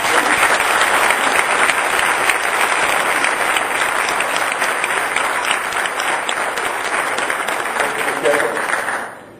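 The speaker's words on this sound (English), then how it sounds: "please applaud for all the employees of the city of Calexico" A city gathering in Calexico breaks into sustained audience applause for the city's employees, a loud, even roar of many hands clapping that holds steady for several seconds before tapering off abruptly at the end.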